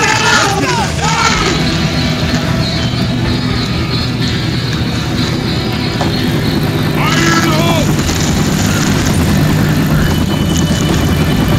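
Steady rotor and engine drone of a helicopter in the zombie shooter Left 4 Dead 2, landing at a rooftop pad, continuous and loud throughout with a few short shouts over it.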